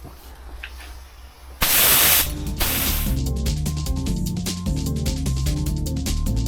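Spray gun applying a coat of paint to a rusty front wing of a Vauxhall Vectra GSI in Jungle Green, a loud broadband hiss in two bursts lasting about a second and a half, with steady music running underneath.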